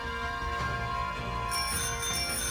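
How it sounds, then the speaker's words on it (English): In Pokemon Sword & Shield, a bicycle bell rings as a bright, sustained metallic chime over steady game music, clear and alone with no talk. "it will ring the bike bell."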